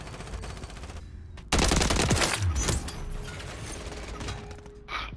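SMG fire in a video game, a dense rapid burst of shots lasting over a second, loud and close, with mechanical clicks and quieter game sounds before and after.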